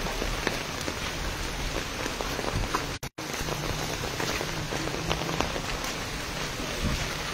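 Heavy typhoon rain pours down steadily and loudly, a dense continuous hiss of drops on surfaces with a brief dropout partway through.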